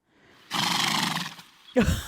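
A horse whinnies loudly in an episode of a medieval fantasy drama series: one breathy, roaring neigh lasts about a second, then a short voiced snort follows after a brief pause.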